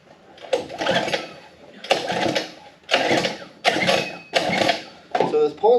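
Five evenly spaced ratcheting whirs of a pull-start cord on a small gas engine fitted to a Power Wheels ride-on, each burst fading without the engine catching, ending in a brief rattling sputter.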